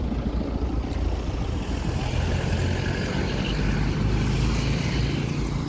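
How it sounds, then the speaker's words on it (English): A commercial vehicle idles on a street in Bakau, The Gambia, giving a steady, loud low rumble that continues without a break, with broad outdoor noise over it. "Some commercial vehicle right here."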